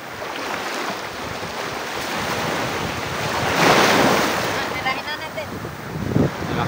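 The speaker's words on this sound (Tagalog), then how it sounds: "naglakas na yung alon" Strong ocean waves break and wash along a beach shore, a loud continuous roar that swells into a bigger surge midway, with heavy wind buffeting the microphone throughout.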